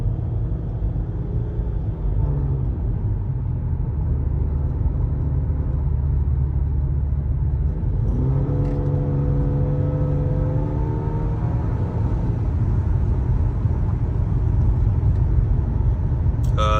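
A car with a damaged, raspy exhaust rumbles loud and close at idle, then the engine revs up in a rising, gravelly drone that holds steady before easing off.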